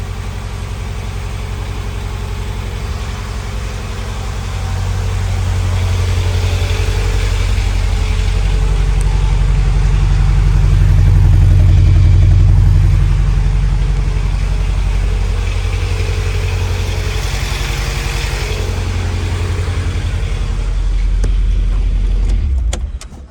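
Honda CRX Si with a B16A3 engine starting with a stuck-open fuel injector: the engine catches and runs at a loud, rough idle, rising after a few seconds and holding steady before cutting off abruptly.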